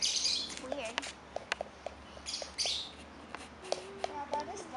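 Small birds chirp and tweet in short, faint calls outdoors while being fed, scattered among a child's and adults' voices talking nearby.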